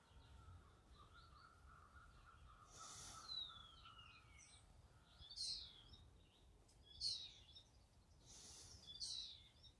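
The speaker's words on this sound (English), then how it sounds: "And we won't mind all those birds around me." Birds sing outdoors in several short, bright chirping phrases that recur every second or two over a soft, steady background hush, fairly near and moderately clear.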